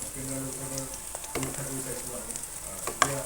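Pieces of fish head fry in oil with turmeric, giving a steady close sizzle with a few stirring clicks and scrapes.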